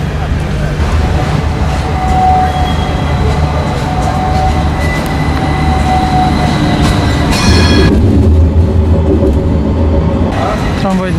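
A tram runs along Istiklal Street in Istanbul, a crowded pedestrian shopping street, with a steady rail rumble and brief high wheel squeals near the end, set against constant crowd noise.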